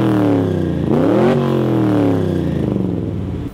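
A Corvette car engine revving hard up and down, loud and close, measured at 124 decibels, the pitch rising and falling in a couple of swells before easing off.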